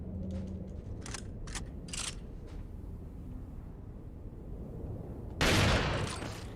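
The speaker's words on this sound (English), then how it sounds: "You think I shoot them with the shotgun?" Shotgun fire at crows in Resident Evil 4, a single loud blast near the end following scattered sharp game clicks and taps over a steady background rumble.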